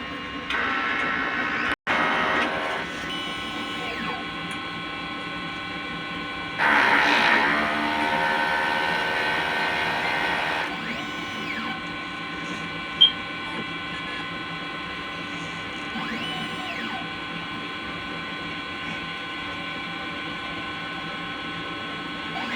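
An inkjet printer runs a head cleaning cycle, a steady mechanical whirring and ratcheting hum with a brief louder grinding stretch in the middle and a sharp click early on, with no talking.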